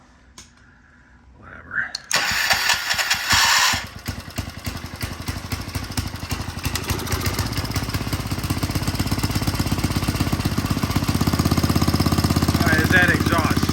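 A Troy-Bilt Pony rototiller engine, running on old varnished gas with a possible stuck valve or dirty carb, sputters briefly and then catches, settling into a loud, steady, rapid small-engine chug that grows stronger and rougher, with a brief voice at the start.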